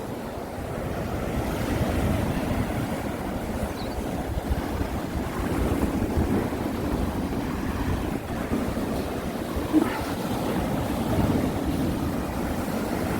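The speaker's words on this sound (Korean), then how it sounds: "파도가 쳐서 열이 물이 넘어가면 예, 파도가 좀 높은 겁니다" High sea waves crash and roar steadily against the rocky shore at Yeonggeumjeong in the early morning under an overcast sky, a dense continuous wash of surf mixed with wind buffeting the microphone.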